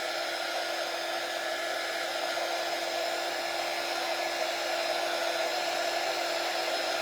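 A hair dryer blowing steadily on wet white paint in a craft project, a loud, close, unbroken whir that holds a constant pitch for the whole stretch with no voices.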